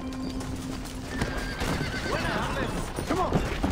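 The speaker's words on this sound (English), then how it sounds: "Which one's my horse? This one. Come on, horsey." Horse in the Red Dead Redemption video game whinnying with rising and falling cries near the end, over steady clip-clopping hooves and faint background ambience.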